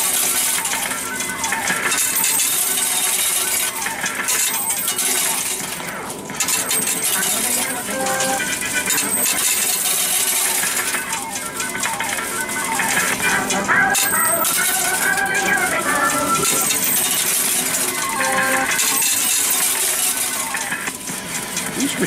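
Coins clatter and jingle continuously inside a Wizard of Oz coin pusher arcade machine, a dense metallic rattle with bright, repeated drops that runs loud throughout, surrounded by arcade noise and occasional talk.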